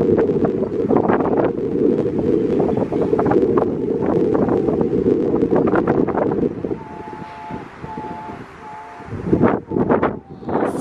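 Strong wind roars steadily across the microphone outdoors beside a red cottage in Sweden, a dense continuous rush with gusty swells, later easing as a few faint tones and knocks come through.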